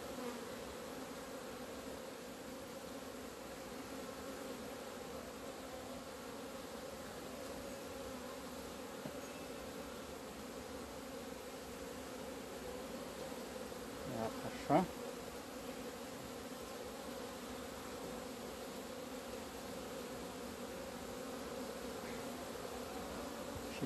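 Steady, dense buzzing of many bees around a moldy wooden beehive box after winter under foil, continuous and close, with a brief knock partway through.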